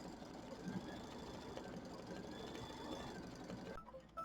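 Embroidery machine quilting a Kimberbell mini quilt block, a steady close mechanical hum and rapid stitching chatter running continuously, cutting off briefly near the end.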